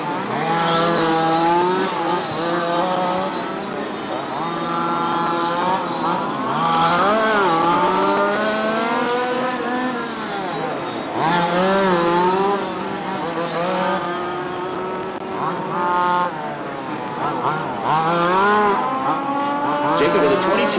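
Race cars lap a racetrack during a live race, engines rising and falling in long wailing sweeps as they pass, loud and continuous, with a commentator talking over the roar throughout.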